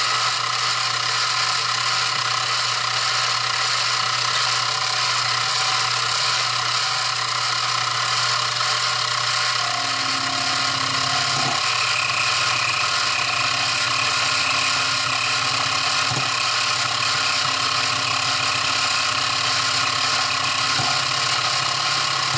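A 1/4 inch bit mills a model locomotive shell, a Walthers Proto 2000 GP30 body, with a steady mechanical whir and gear-like ratcheting that shifts pitch partway through and continues close and unbroken.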